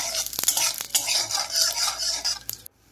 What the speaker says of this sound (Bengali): মাছ ভাজা তেলের মধ্যে আমি দিয়ে দিলাম গোলমরিচ, এলাচ, লবঙ্গ, দারচিনি আর দুটো তেজপাতা